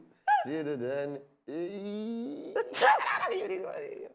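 A person sneezes once, a sudden breathy burst that cuts in right after a voice singing and talking nearby.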